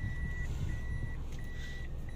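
A car reversing sounds a steady series of high electronic beeps, about one every half second, over a low idling engine rumble, with no talk.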